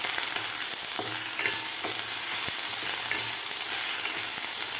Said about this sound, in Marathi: मसालासुद्धा आपल्याला 1 मिनिटभर व्यवस्थित फ्राय करून घ्यायचा आहे.